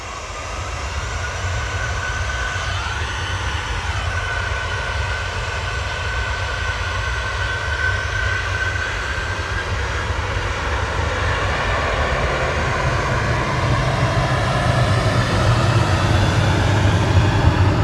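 Swiss airliner jet engines at Manchester Airport spool up in a steady, loud, broad roar with a faint rising whine, sustained with no voices.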